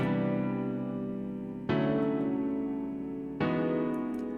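Full, layered synth keys play three long chords in turn, each one ringing out richly before the next is struck.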